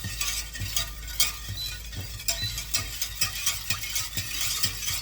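A spoon stirs milk and sugar in a pot with a steady scraping rhythm and light metallic clinks against the sides.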